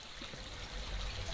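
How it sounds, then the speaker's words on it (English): Water rushes steadily through pipes in the video game The Historian, a continuous noisy flow that swells slightly toward the end. "God, this water is loud."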